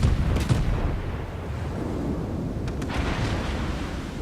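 French battleship guns firing in World of Warships, a loud deep boom at the start fading into a low rumbling tail, with a second softer crack later amid continuous battle noise.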